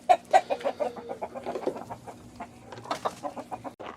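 Several chickens cluck and chatter close by as hens leave a coop on a farm, with short, uneven calls in quick succession and a faint background hum.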